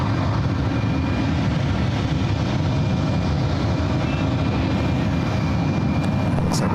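An Embraer E2 jet airliner run by Porter roars steadily on the ground at SFO, a loud, broad and continuous engine rumble heard from nearby, with no talk.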